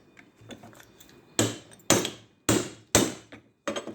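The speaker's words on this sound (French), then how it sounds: "il faut prendre un burin" Hammer striking a chisel to split open lead-sheathed electrical cable with tinned copper inside, a series of sharp metallic blows, several light taps then about five heavy strikes, close and without talk.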